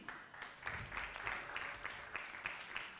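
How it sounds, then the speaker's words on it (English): An audience at a media conference applauds panelists and speakers, a faint, steady patter of many hands clapping at a distance throughout the short stretch. "Let's give a big round of applause to our panelists and speakers for today."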